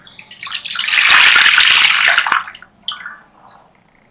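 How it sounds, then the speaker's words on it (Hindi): Full fat milk poured into a kadai for kulfi, a steady liquid splash and gurgle building over about two seconds, then a couple of brief drips and clinks, close and fairly loud. "यहाँ मैंने कढ़ाई ली, इसके अंदर मैं ये दूध डाल दूंगी।"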